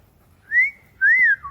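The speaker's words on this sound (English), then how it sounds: "I'm whistling at him" Two rising-and-falling whistled notes by a person, clear and fairly close, separated by a short pause against a quiet background.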